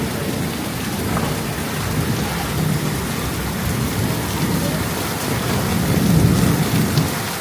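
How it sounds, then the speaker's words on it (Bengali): Heavy rain pours down steadily during a sudden storm in Bangladesh, with rolling thunder beneath. The downpour is loud and constant throughout, with a deeper rumble swelling near the end. "হঠাৎ করে এত বৃষ্টি"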